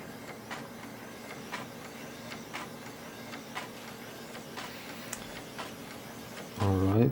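Built-in printer of an HP-85 computer printing, a quiet run of regular ticking clicks at a steady pace, ending in a louder burst of mechanical noise.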